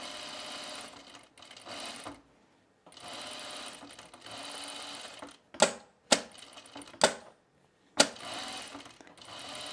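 Sewing machine top-stitching a fabric oven mitt in several steady whirring runs separated by pauses, then a few short sharp clicks and clacks, close and clear with no talk.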